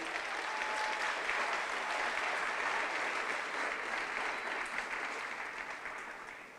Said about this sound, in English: our Board of Education truly deserves a round of applause